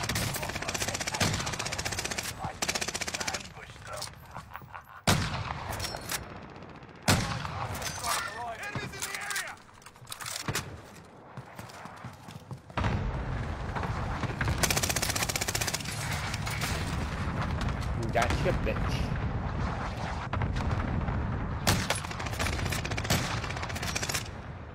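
Call of Duty gunfire crackles through most of the stretch, with bursts of automatic fire, rattling volleys and single sniper-style shots, loud and dense, while players talk over the shooting.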